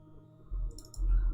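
Keyboard typing in a cartomancy card game, a short run of soft clicks and muffled key taps, close and quiet, over about a second with no voices.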